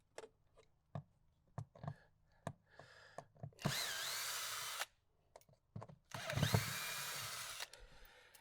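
A power drill backs out Phillips head screws on a house exterior during painting prep, two sustained whirring bursts of a few seconds each, fairly loud and close, with scattered knocks and handling clicks in between.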